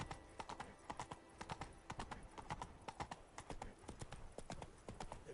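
Roach, Geralt's horse in The Witcher 3, gallops in a quick, steady rhythm of distinct hoofbeats, fairly quiet but clear and close, with no talking over it.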